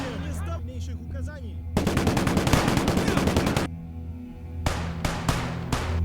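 Rapid bursts of Maxim machine gun fire in the WWII shooter Gates of Hell: Ostfront, a sustained loud volley followed by a pause with distant battle noise and a few shorter closing bursts.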